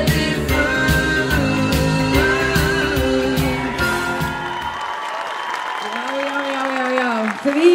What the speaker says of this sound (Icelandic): gefum þeim gott klapp